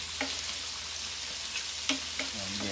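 Meatballs fry in a Power XL cooker with a low, steady sizzle, while a few sharp clicks and scrapes come from stirring and flipping them close by.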